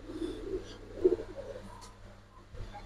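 Giribaz pigeons cooing softly at close range, a few low throaty coos in short bursts with brief pauses between, no talk.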